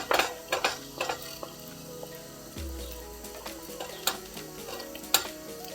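A jackfruit mixture is stirred in a pan, with quiet scraping and repeated light knocks of a spoon against the pan over a soft background hum, and no voices.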